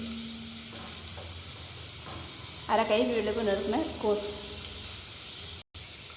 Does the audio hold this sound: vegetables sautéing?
yes